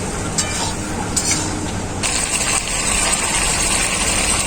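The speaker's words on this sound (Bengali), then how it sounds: "এইভাবে খুব ভালো করে কষিয়ে কষিয়ে এই রেসিপিটা করে নেব" Chicken liver masala sautéing in a pan, with a steady loud sizzle and bursts of stirring and scraping that get busier partway through, and no voices.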